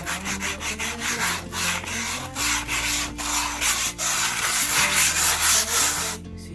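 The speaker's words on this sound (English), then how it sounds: "and then you can sand with it." Sandpaper rubs back and forth over a wooden bread board in steady, repeated strokes, loud and close with no talking.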